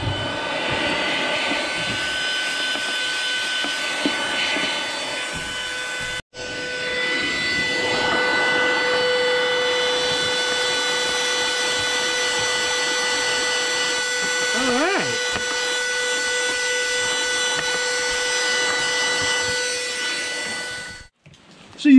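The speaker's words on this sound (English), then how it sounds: "This is a vacuum cleaner for dust and stuff." Elegiant cordless, USB-rechargeable handheld car vacuum with a HEPA filter, picking up debris from a lawnmower. Its steady, high-pitched motor whine runs close and loud, briefly cutting out once near the start and again at the end.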